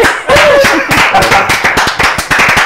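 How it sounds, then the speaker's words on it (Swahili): A group claps in a quick, steady rhythm, sharp hand claps repeating close by and loud over a short stretch. "aya makofi"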